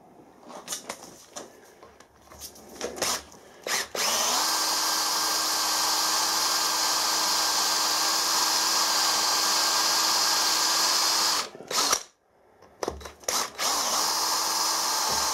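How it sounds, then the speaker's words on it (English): A power drill bores through a hard broken stud seated in a soft cast iron part, whining steadily and loud for several seconds after a few short starts, then stopping, followed by a few brief bursts. "we're drilling the stud because it's nice and hard as opposed to the soft cast iron."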